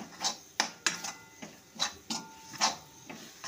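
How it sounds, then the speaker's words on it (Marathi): Spoon stirring and sautéing gram flour (besan) in a pan with capsicum bhaji mixture, a series of soft scraping clinks against the pan at an uneven rhythm, close and fairly quiet. "बेसन छान परतून घ्यायचं, छान एकजीव करून घ्यायचं साहित्य सर्व।"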